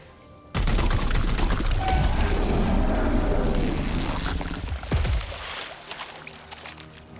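A loud, sudden volley of weapon fire in Warhammer 40,000: Chaos Gate – Daemonhunters, a rapid burst of heavy shots and impacts that rumbles on for several seconds before fading into lighter debris and echoes.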